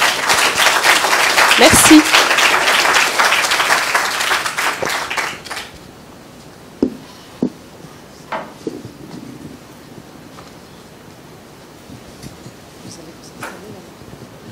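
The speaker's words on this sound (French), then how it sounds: "On peut l'applaudir." Audience applause at a French food democracy colloquium, dense clapping filling the first five seconds before dying away into scattered claps, shuffling and a brief spoken word.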